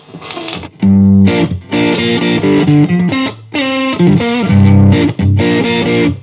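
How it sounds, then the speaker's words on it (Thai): Loud, heavily distorted electric guitar chords played through a Fender Champion 100 amp, strummed in bursts with brief gaps between, thick and crunchy, no talking. "ก็จะมีความแตกเยอะขึ้นนะฮะ"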